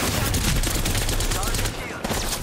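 Dense, rapid video-game gunfire rattles continuously and loudly, dipping briefly near the end before resuming.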